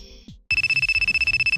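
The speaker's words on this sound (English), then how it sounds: "your phone's blowing up" A phone ringtone starts abruptly after a brief bit of other sound, then trills as a rapid pulsing electronic ring, loud and close, continuing to the end.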